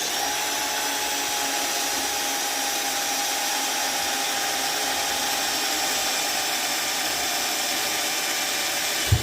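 A lightweight power drill bores a hole in an RGB neon light sign board, with a steady continuous whine and buzz that stays close and uninterrupted for the whole stretch, and no voices.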